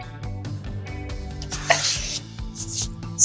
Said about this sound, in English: I just kind of want to mix it until I don't see any more specks of flour